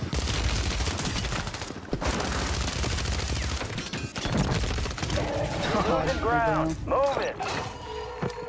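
Kar98k sniper rifle fire in the video game Warzone, loud sharp shots ringing through dense battle noise, with mechanical clacks and creaks from the bolt alongside other gunfire.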